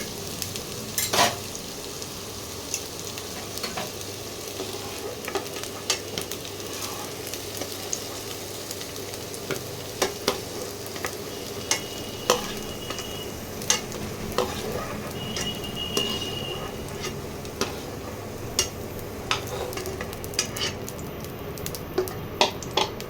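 Squash pieces fry steadily in hot oil in a pan, a continuous close sizzle punctuated by regular sharp clicks and scrapes of a spoon stirring against the pan.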